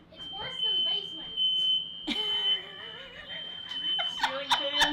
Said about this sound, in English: gonna pull out the smoke detectors